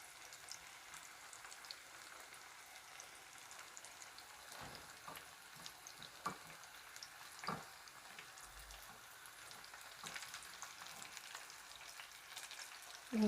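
Chicken nuggets fry in hot oil, a faint, even bubbling sizzle with a few light clicks and taps from moving the pieces, no speech.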